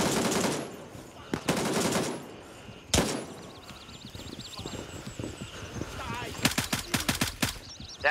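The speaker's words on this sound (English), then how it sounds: "they're shooting from across there" Gunfire rings out in the Gray Zone Warfare video game: several bursts of rapid automatic shots, loud and close, spaced between quieter stretches, with players talking over the action.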